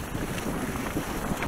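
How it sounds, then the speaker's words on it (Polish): Steady wind buffets the microphone with a constant low rumble and broadband roar, no voices. "Na filmie będzie wiatr słychać."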